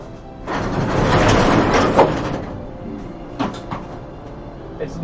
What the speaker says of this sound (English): Let me open the door.